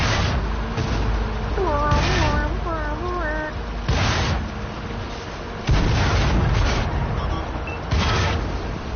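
Tank cannon shots in World of Tanks, tank destroyer battles: several heavy booming blasts spaced a second or two apart, loud and close, under tonal music or voice chatter with a person talking.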